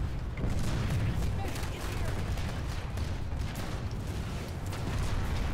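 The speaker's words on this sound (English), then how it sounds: "Stray gunfire there." Continuous rattling bursts of gunfire in the video game Planetside 2 crackle without pause, a dense, steady barrage of shots at moderate distance.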